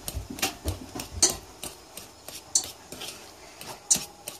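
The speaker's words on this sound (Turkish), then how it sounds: "İstediğimiz kıvama getirene kadar çatalla şu şekilde ezdik." A fork mashes boiled potatoes in a bowl, producing quiet, irregular taps and soft squelching scrapes against the dish, close up and unaccompanied by speech.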